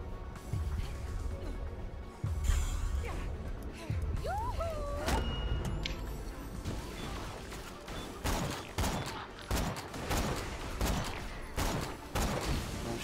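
Dense gunfire from Borderlands: The Pre-Sequel rattles in rapid bursts and fusillades, loud and close, with game effects mixed in and a voice speaking over the shooting.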